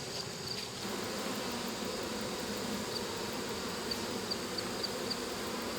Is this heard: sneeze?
no